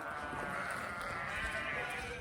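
A sheep bleats in a drawn-out, wavering call at a moderate distance, heard alone over faint farmyard background with no talking.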